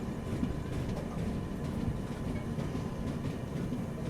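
A train passing near Nidadavolu Junction railway station on a Kadapa–Vizag route, a steady rumbling roar of wheels and cars that stays loud and even throughout, with no voices.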